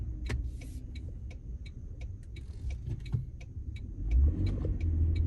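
A car moving through slow traffic, with a low engine and road rumble throughout, light ticking and clicking sounds on top, and a heavier surge of rumble near the end.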